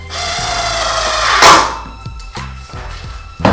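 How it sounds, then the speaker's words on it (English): Power drill boring pilot holes for large screws in a 1-inch board, a loud whirring whine that runs for about a second and a half, then winds down into scattered knocks and brief motor bursts. "the reason we're gonna pre-drill these is because if we just stick these massive screw into a 1-inch board, it's just gonna split"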